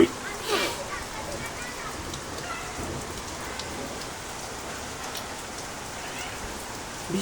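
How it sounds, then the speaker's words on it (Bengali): Rain falls on green vegetation with taro leaves and a mango tree, making a soft, even patter throughout, with a brief faint voice near the start. "বৃষ্টি আরো হবে"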